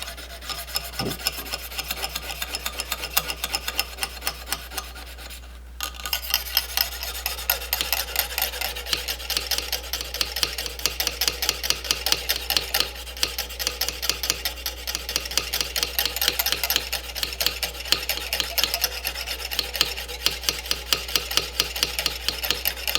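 Knife edge stroked steadily across a fine sharpening stone, making a loud, close, rhythmic rasping scrape that repeats without pause, with a brief break near the start.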